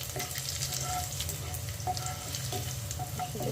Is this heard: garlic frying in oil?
yes